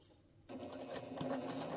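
Sewing machine stitching quilt fabric, its motor starting after a brief quiet moment and running in a fast, steady whir with a faint rhythmic needle tick, fairly soft and close.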